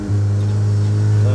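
A modified Volkswagen Golf GTI engine revs hard with traction control switched off, holding a loud, steady, droning note that rises slightly near the end.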